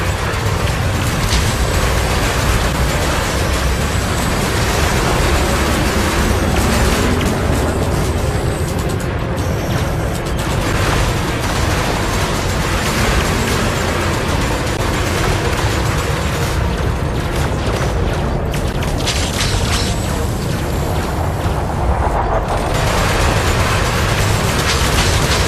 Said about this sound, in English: Combat is also a great effect when those things blow up with a great explosion.